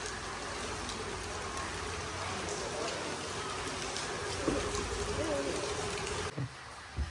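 Heavy rain pours down in a steady, fairly soft hiss that continues evenly before cutting away sharply near the end.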